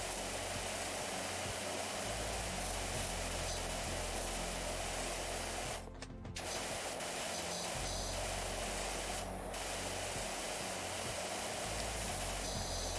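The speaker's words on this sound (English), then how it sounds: "we bought a brand new power washer. This one's a lot stronger than the last one." A power washer in PowerWash Simulator sprays with a constant, broad hiss, briefly cutting out twice before resuming.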